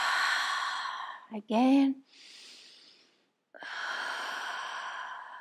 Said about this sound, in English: Take a deep breath, inhale, arms up, exhale to your mouth